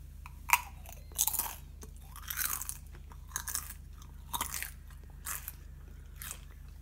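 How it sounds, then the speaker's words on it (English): Someone bites and chews a seasoned Doritos tortilla chip, giving a series of close, crisp crunches spaced about a second apart, with quiet pauses between bites and no talking. "she's going to try the chip with some seasoning on it"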